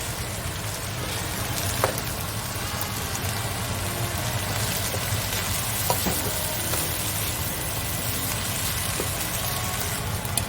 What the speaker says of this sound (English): Cooking fried rice in no time